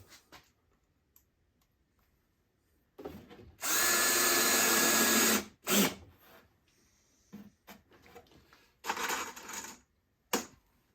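A power drill drives screws into Langstroth beehive boxes held in a jig, giving one long loud whirring run followed by several shorter bursts and clicks, with quiet gaps between.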